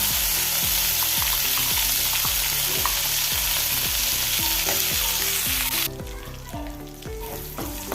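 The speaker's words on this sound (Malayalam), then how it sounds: "നല്ലപോലെ ഒന്ന് മിക്സ് ചെയ്യുക" Ground masala stirred into a frying lotus seed curry, a loud constant sizzle with rhythmic spoon scrapes against the pan at a regular beat, easing slightly near the end.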